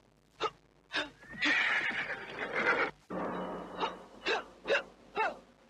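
Cart horses neigh and snort repeatedly, with a short burst of sharp calls, two longer loud whinnies in the middle, then more clipped snorts and calls near at hand.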